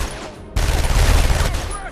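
Bursts of gunfire strike the player character in Batman: Arkham Asylum, a loud, dense rattle of shots that starts abruptly and carries on over the in-game soundscape.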